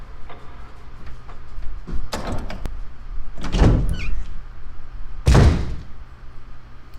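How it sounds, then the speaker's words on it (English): A door opening in the Resident Evil Remake video game, heard as a few distinct thuds and scraping movements spread over several seconds, fairly close, with no talking. "And then this door is open now"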